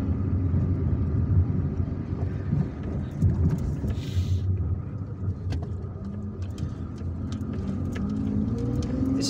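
Steady road noise of a car driving through the streets of Algiers, between Mohammed Belouizdad Street and El Madania, with a continuous low engine and tyre rumble, passing traffic and faint birds over the top.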